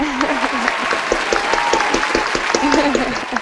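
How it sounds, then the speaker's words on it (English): Brief round of applause from a small group, dense clapping throughout with a voice talking and laughing over it. "Give yourselves a round of applause."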